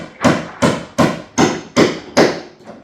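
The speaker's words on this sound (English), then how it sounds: "as you can hear, they're doing some hammering and they're pulling nails" Roofers hammer nails on a storm-damaged roof, six sharp, loud strikes landing at a steady rhythm about every 0.4 seconds, each ringing briefly before the next blow.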